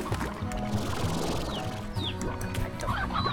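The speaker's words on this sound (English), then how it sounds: "I was collecting roosters" Roosters cluck in the Slime Rancher video game, with short bird calls over a steady, busy bed of continuous game sound.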